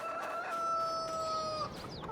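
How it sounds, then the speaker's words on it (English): A rooster in the video game Farming Simulator 22 crows once in a long drawn-out call, close and clear, trailing off into a brief cluck at the end. "I bet we need to feed the chickens as well"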